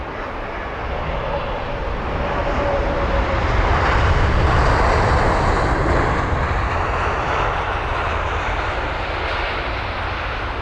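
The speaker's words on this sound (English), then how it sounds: "4 years of age is this A350" A four-year-old Airbus A350 arriving from San Francisco at London Heathrow rumbles past with a loud, steady jet engine roar that swells gently and holds for the whole stretch.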